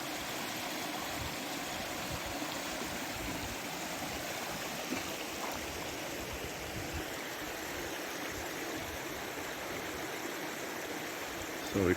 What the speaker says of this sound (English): So this is the beautiful crystal clear water that comes from that waterfall from the mountains.